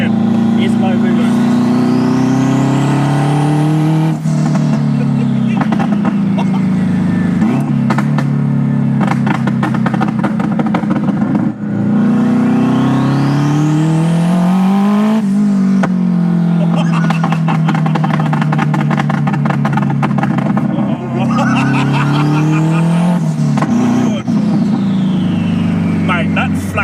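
A 532bhp turbocharged Honda Civic engine revs loud and close on low boost, its pitch sweeping up and falling back in three long rising pulls, with people talking over it.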